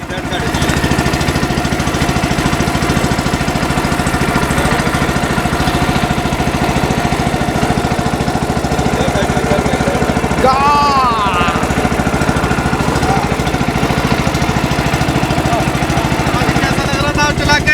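A motor boat's engine runs while the boat is being steered, a loud, steady mid-pitched drone that holds without a break from start to end, close by, with a brief higher warble partway through.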